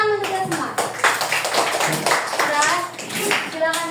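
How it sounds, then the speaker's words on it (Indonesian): A school class in a maths lesson on fractions claps together with fast, scattered hand claps, while children's voices and a teacher's speech run over the clapping throughout. "Udah tepuk tangan untuk kita semua."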